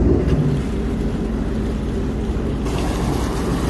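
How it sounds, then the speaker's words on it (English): A jet ski engine idles in neutral with a steady low rumble, close and loud, mixed with wind buffeting the microphone. "When you start a jet ski, it starts in neutral."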